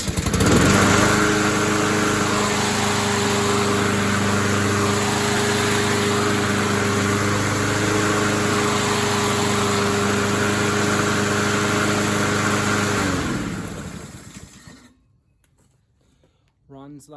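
A self-propelled, bagger-equipped lawn mower with a Honda engine runs steadily at close range, a loud, even mechanical drone with a constant low hum for about fourteen seconds before cutting out abruptly into near silence.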